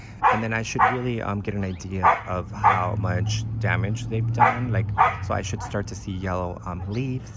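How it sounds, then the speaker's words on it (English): Pet dogs bark near a garden where birds drink water, the sharp yips and barks breaking in repeatedly beneath a person talking steadily close to the microphone. "Sorry about my dogs. They bark at the birds when they're drinking water."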